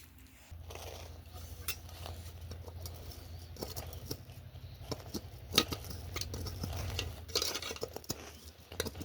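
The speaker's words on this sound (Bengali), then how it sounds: "তো চামচ দিয়ে ভালো করে এই যে ধারগুলো নিচেগুলো ছাড়িয়ে দিচ্ছে" Metal spoon scraping set milk kheer loose from the edges and bottom of a cooking pan, a run of short scrapes and clinks close by over a steady low background hum, with no talking.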